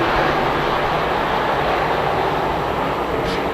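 Modified race cars roaring out of a corner at a dirt track race, giving a loud, steady engine drone that fills the clip without a break and has no talking.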